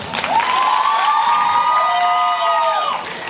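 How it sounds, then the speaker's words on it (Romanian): A crowd at a high school freshman ball applauds and cheers loudly, with a long, shrill sustained whoop or whistle riding over the clapping for several seconds. "Aplauze, vă rog!"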